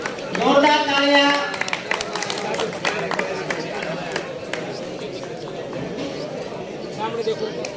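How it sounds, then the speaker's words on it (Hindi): An audience at a community award ceremony for senior citizens and meritorious students applauds in a dense, sustained patter after a loud voice over a speaker system. "जोरदार तालियां।"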